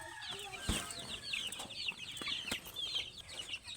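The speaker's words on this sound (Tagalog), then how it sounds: "Ang lalaki na ng mga sisiw natin." A crowded pen of vaccinated chicks from a Rhode Island, Jersey Giant and Brahma crossbreed peep in rapid, overlapping high chirps, close by, with a few sharp knocks and clatters.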